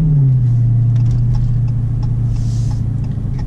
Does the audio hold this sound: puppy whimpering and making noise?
no